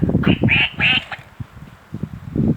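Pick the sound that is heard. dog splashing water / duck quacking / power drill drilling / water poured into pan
duck quacking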